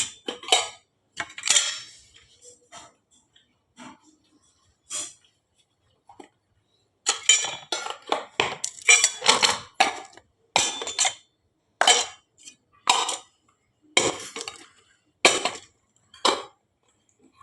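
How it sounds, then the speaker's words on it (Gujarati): Flatbreads (rotli) are set into a tiffin lunch box with a run of sharp metallic clinks and clatters from the steel containers, close and fairly loud, bunched into quick bursts separated by pauses. "હાલો આપણે મૂકવી રોટલી ટિફિનમાં"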